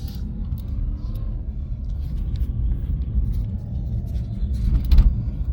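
A car drives along with a steady, low engine and road rumble heard from inside, fairly quiet, and a slight swell near the end.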